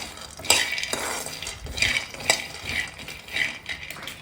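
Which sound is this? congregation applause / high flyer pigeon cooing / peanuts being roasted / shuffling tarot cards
peanuts being roasted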